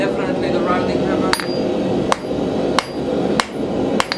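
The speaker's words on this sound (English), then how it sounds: "definitely the rounding hammer." Rounding hammer striking hot metal while forging a door handle, five sharp ringing blows at an uneven slow pace over a steady background hum, close by.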